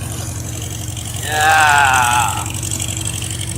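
A 1951 Farmall H tractor engine putters in a steady, rapid low-pitched rhythm close by on an icy New Year's Day ride in Cuddy Valley, while someone briefly speaks over it.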